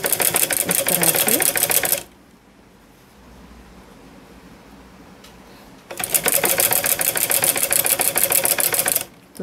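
A domestic sewing machine topstitches a frill bell sleeve, running over earlier stitching along the piping, in two loud, steady bursts of rapid needle clatter separated by a few seconds of near silence.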